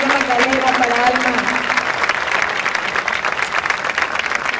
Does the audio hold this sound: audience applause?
yes